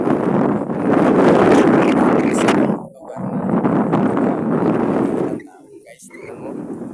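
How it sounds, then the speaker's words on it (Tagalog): Strong wind buffets the microphone in loud, rumbling gusts that rise and fall, briefly easing before surging again. "maganda po ang simoy ng hangin"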